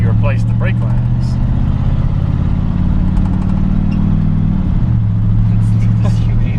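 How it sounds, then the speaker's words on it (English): A truck driving on the road after its brake lines were replaced, with a loud steady engine and road drone throughout that drops in pitch near the end, and people talking over it. "this is what it feels like to drive in your truck after you replace the brake lines"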